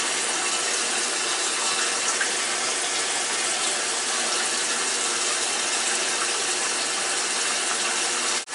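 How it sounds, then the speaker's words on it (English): A Kenmore washer tub fills with water on a small load, a loud, steady rushing hiss that runs unbroken for several seconds before cutting off at the very end. "It's filling now, nothing yet."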